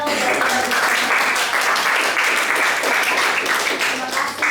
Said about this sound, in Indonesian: Nah, tepuk tangan ya untuk Maisel.